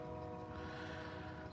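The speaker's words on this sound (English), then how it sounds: "So we got train horns in the background." Train horns blare in the background, a steady sustained chord of tones filling the whole moment without any break, with no talk heard.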